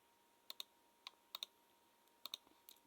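Light typing on a keyboard, a few sparse clicky keystrokes in small clusters, close and crisp against a quiet background.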